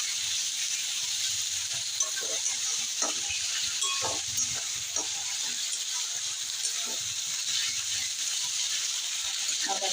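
Onion paste frying in a pan gives a steady, close sizzling hiss, broken by scattered scrapes and taps of stirring throughout. No one speaks.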